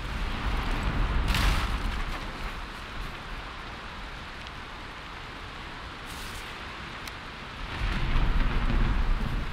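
Steady heavy rain with rumbling thunder in the video game Valheim, a continuous loud downpour with swelling rolls of thunder near the start and the end.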